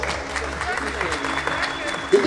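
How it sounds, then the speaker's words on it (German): An audience applauds after a 100-euro bingo win, a continuous patter of clapping under talk. "Ein Applaus."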